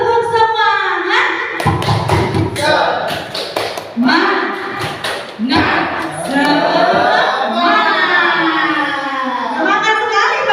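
Teachers at an elementary school in Cigudeg perform rhythmic tepuk semangat clapping, sharp bursts of claps in patterned groups mixed with chanting voices and lively talk.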